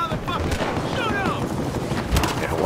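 Gunfire in the video game Battlefield Hardline, loud bursts of shots and blasts in a dense noisy mix, with players talking over it.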